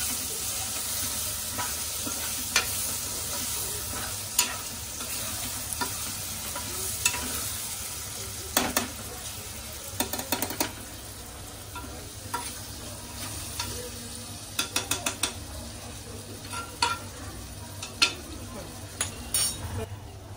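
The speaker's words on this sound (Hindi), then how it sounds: "मस्तपैकी त्याला आपण शेक करून घ्यायचं आहे, मिक्स करून घ्यायचं आहे." Chopped onion and tomato with spices sizzle in a pan for dal khichdi, a steady frying hiss punctuated by repeated clinks and scrapes of a spoon stirring against the pan.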